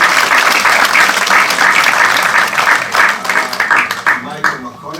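An audience at a church education and monastic culture event breaks into sustained applause, dense clapping that fills the room and then thins out toward the end.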